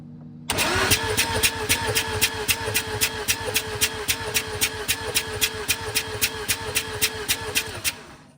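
A Mazda SA22 rotary engine cranks over on the starter during a compression test with the throttle open, a loud, close, steady rhythmic churning with evenly pulsing compression beats for about eight seconds, never firing.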